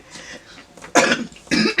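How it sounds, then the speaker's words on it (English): Two harsh coughs from one person, a lingering cough after two weeks of illness, close and sharp with a short pause between, preceded by faint breathy sounds. "Still have a bit of cough after being sick for those 2 weeks"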